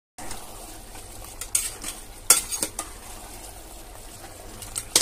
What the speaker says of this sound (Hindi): अब हमने शिकार को भूनना शुरू कर दिया है